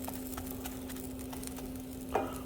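A grilled cheese sandwich sizzles quietly in a pan, with a soft steady fry, light patter and a brief scrape near the end.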